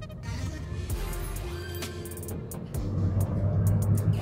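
A 2019 Honda HR-V pulls away on a test drive, its engine note rising from a low hum into a steadier, louder drone heard from inside the cabin, with no talking.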